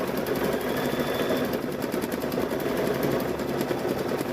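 A sewing machine hums and clatters steadily while stitching a quilted apron, a close continuous rattle without pauses or talk.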